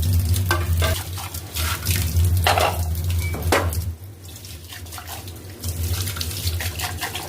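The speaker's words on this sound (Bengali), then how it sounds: "মোটামুটি কিছু প্লেট ধুয়ে নিতে হচ্ছে" Plates being washed under a running kitchen tap, a steady close rush of water with clinks and scrubbing bursts, easing briefly midway before resuming.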